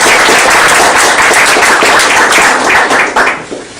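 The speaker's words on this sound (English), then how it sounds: "I would like everyone to please give her a round of applause." Loud, close audience applause at an evening talk, a thick wash of clapping that holds steady before thinning out and fading near the end.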